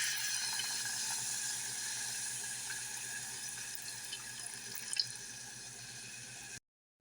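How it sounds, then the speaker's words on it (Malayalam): Tamarind water is poured into roasted spice powders for sambar, giving a steady, close liquid pour with a soft splashing hiss that runs evenly for several seconds and then stops abruptly. "മൂപ്പിച്ചെടുത്ത പൊടികളിലേക്ക് നമുക്ക് ഒരു നെല്ലിക്ക വലുപ്പത്തിൽ കുതിർത്ത് വെച്ചിട്ടുണ്ടായിരുന്ന പുളിയുടെ വെള്ളം നമുക്ക് ചേർത്ത്"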